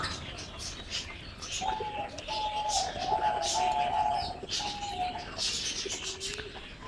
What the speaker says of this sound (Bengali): ওই যে এখানে কিছু কবুতর আছে এরা উঠতে চায় না